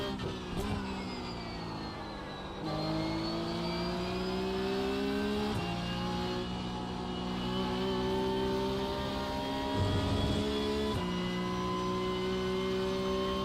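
Porsche 992.1 Cup race car in the iRacing simulator at Spa, engine droning steadily at high revs with gear shifts and pitch sweeps, loud and continuous with no talk.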